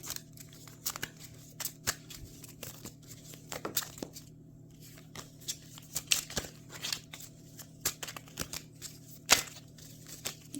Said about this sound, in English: so we'll do a few more shuffles here